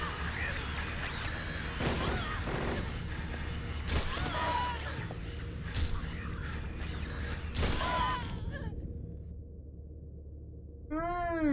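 Gunfire in a video game, with bursts of sharp shots and crashing impacts over a continuous noisy background, then a sudden drop to near silence before a short electronic tone at the end.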